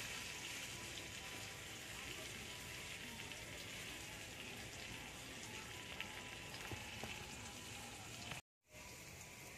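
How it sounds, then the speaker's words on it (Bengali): Potato pieces with salt and turmeric frying in a pan, a soft, steady crackling sizzle heard faintly and continuously, with a brief dropout near the end. "আলুটা ভালো করে ভেজে নেব।"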